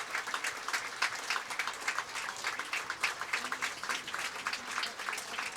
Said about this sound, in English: As the crowd and players race to their feet to cheer the Nick Muth on as he's wheeled off the fie